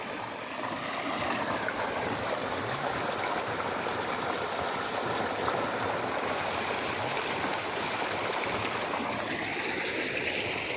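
Irrigation water flowing through a sugarcane field in Tamil Nadu, a steady close rushing and gurgling stream that continues without a break.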